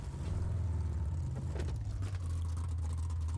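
A car drives in the video game PUBG, a steady low engine hum holding at moderate loudness for the whole stretch, with no voices over it.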